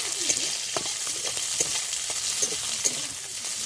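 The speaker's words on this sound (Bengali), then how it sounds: "এই মাছ ভাজার তেলের মধ্যেই আমি কাঁচা লঙ্কা চেরা দিয়ে দেবো।" Slit green chillies sizzle and spit in leftover fish-frying oil, a steady, close crackle with occasional stirring clicks and no voices.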